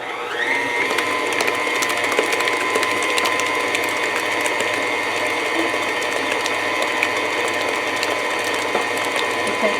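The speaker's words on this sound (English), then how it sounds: "we're going to turn the mixer back on for just a minute" An electric mixer whirs steadily while beating cheesecake batter in a bowl, a continuous mechanical hum with a faint rattling texture that starts near the beginning and runs loud and unbroken to the end.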